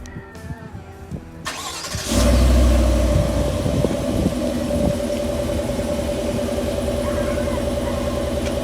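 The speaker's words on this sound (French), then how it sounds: "on a eu un Chevrolet Suburban qui est un 4x4 SUV 7 places" A Chevrolet Suburban seven-seat 4x4 SUV cranks briefly and fires up loudly, then settles into a steady, even idle heard close by.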